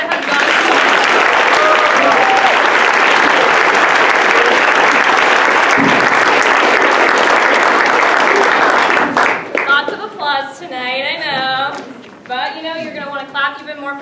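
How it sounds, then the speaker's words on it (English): Applause from a theatre audience at a ten-minute play competition: loud, dense clapping sustained for about nine seconds, then fading out as a presenter speaks into a microphone. "can we get a round of applause for all the shows that have gone so far?"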